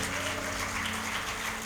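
A congregation at a worship service claps together in a continuous, even wash of applause, with a low sustained tone underneath throughout.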